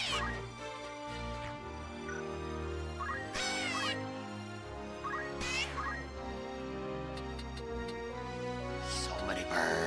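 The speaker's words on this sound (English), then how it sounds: "So many birds!" Crows cawing in the video game Final Fantasy Tactics, several harsh calls scattered over steady game music, with a few brighter chirps near the end.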